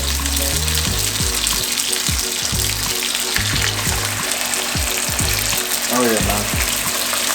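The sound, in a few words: steak slices frying in a pan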